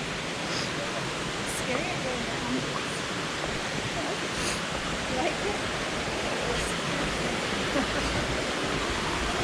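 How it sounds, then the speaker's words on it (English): Waterfall in the Black Forest, Germany: a constant broad roaring rush of falling water, loud and unbroken throughout with no clear voices. "waterfalls in the Black Forest."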